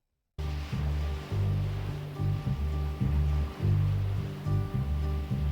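Ocean waves wash in repeated rolling surges, steady and fairly close, under tonal hum from a recording of Otis Redding's "(Sittin' On) The Dock of the Bay".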